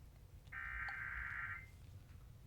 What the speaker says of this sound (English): it sounds like one of those emergency alerts